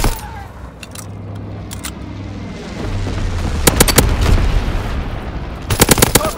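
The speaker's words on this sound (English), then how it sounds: "Dropping incendiary." An incendiary bombing run in Call of Duty: WWII, with rumbling blasts beneath dense rapid gunfire and sharp cracking shots, loud and chaotic throughout.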